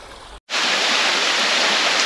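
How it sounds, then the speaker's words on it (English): A waterfall pours into thermal pools on Sao Miguel in the Azores, a loud, steady, close rush of falling water after a brief cut. "we're just under the waterfall here in these beautiful thermal pools"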